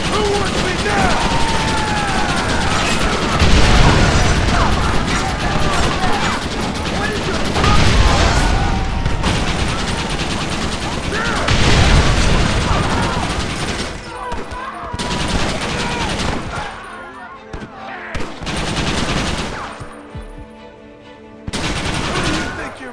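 Gatling gun fire in Red Dead Redemption, loud sustained rapid bursts mixed with other gunshots and battle noise, with voices speaking over the shooting before it thins out toward the end.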